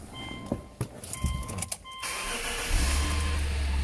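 2006 Subaru B9 Tribeca Limited starting up: a few clicks and a brief starter crank, then the engine catches at about two seconds and settles into a steady, close idle with a low rumble, no talk.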